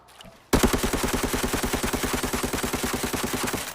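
An AK-102 rifle fires in a long, rapid full-auto burst at a shooting range in Arena Breakout, with evenly spaced loud close shots following a brief quiet moment.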